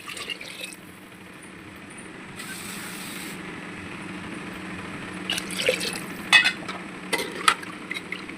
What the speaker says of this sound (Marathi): आता आपण यात पाणी ॲड करू.